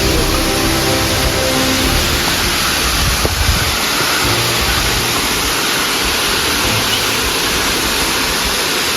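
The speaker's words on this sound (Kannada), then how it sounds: "ನೀರು ಹೆಂಗೆ ಬೀಳತ್ತಾವ ನೋಡ್ರಿ." Steady roar of a waterfall, water crashing down continuously at close range, loud and unbroken throughout with no voices.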